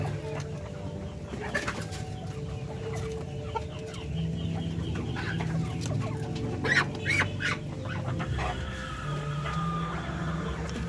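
Breeder chickens cluck and cackle continuously in a busy flock, a mix of near and farther calls over a low background hum.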